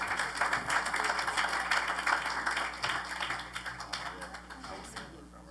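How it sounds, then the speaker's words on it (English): Applause at a Naples city council candidate forum as the last candidate comes up, a steady wash of clapping that begins loud and thins toward the end, with faint voices underneath. "If you'll give a warm round of applause for Beth Petranov."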